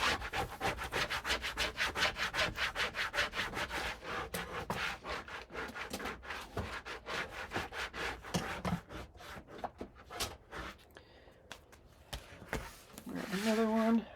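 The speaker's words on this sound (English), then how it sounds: "But I'm going to burnish." A bone folder burnishes paper on a honeybee-themed mini album, producing quick rhythmic rubbing strokes in steady bursts, close and fairly quiet, with a brief pause and a final flurry of scraping.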